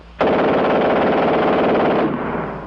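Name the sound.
machine gun firing at a high rate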